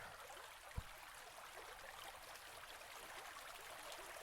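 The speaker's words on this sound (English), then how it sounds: "There's a stream bubbling along its path just behind the fire." A small stream bubbles and trickles quietly behind a fire, a faint, continuous watery hiss with a single soft knock near the start.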